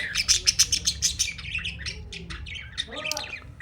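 Parrots in a breeding colony chirp in a rapid, pulsing series of bright calls that thins out, then a harsher squawk breaks in near the end, all close and fairly loud.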